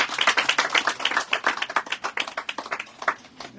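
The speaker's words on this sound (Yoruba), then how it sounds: "ẹja pàtẹ́wọ́ fún Jésù rẹ̀" A congregation at a church gathering for a funeral claps hands together for Jesus, a dense, steady rhythmic round of many hands, loud and close, with faint voices mixed in.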